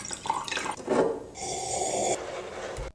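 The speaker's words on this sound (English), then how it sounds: "Like there is no reason to rinse sparkling water." Mouth rinsing with sparkling water: wet swishing and gurgling lasting a few seconds, close and moderately loud, ending abruptly.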